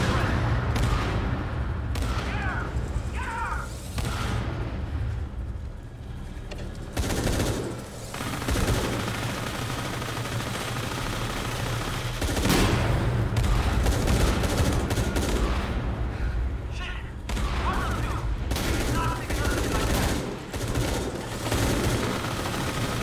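Gunfire in the video game Shadow of the Tomb Raider, with loud, repeated bursts and single shots across a noisy battle, and a voice speaking now and then.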